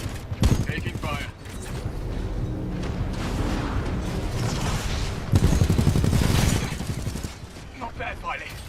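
Gunfire in the Titanfall 2 video game rattles in two loud rapid bursts among explosions and mechanical combat noise, with voices talking over parts of it.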